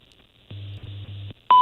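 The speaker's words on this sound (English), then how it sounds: "That's the phone call to the National Institute of Standards" A telephone call to the NIST time service sounds as a steady low tone lasting almost a second with two brief breaks, then a short, loud high-pitched beep. The tones are clear against near silence.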